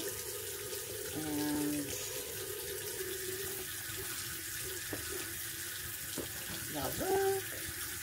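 Water runs steadily from a tap while hair bundles are rinsed, a continuous close splashing flow with a person speaking briefly over it.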